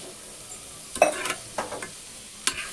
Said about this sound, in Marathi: बस 5 मिनटं भाजून घ्यायचं याला